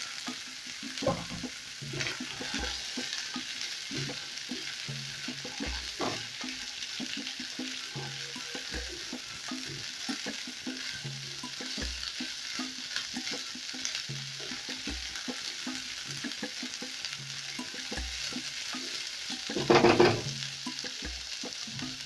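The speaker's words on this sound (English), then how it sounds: "I'm going to mix that well. Then I'll go in with my black beans." Black beans being stirred into frying capsicum and coriander stems in a pan, a steady sizzle under repeated soft scraping strokes of a spoon, with one louder burst of sizzling near the end.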